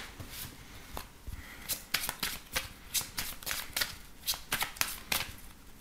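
Lenormand cards being shuffled and cut by hand, a quiet series of crisp, irregular riffling and slapping bursts heard close up with no talking.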